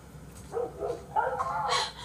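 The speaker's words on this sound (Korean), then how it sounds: "강아지가 그냥 깽깽거리는 소리가 나네" A puppy in The Last of Us video game yelps and barks in a string of short, close, high whimpering cries that grow louder toward the end, over a low background hum.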